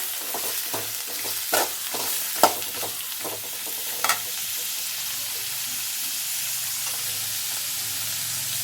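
Vegetables for a Chennai-style mango and drumstick sambar stirred in hot oil, a steady sizzle with a few sharp spoon scrapes and clanks early on, then continuous frying alone.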